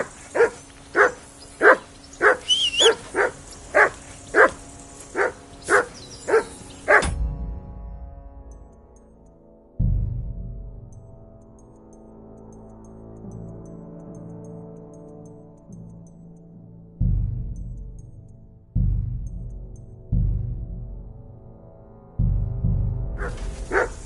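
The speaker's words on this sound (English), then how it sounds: "Whistle at that mutt of yours to stop barking!" A mongrel dog barks in a quick, loud, close burst of about ten sharp barks, then quiets to scattered low thumps and muffled sounds, with barking starting again at the very end.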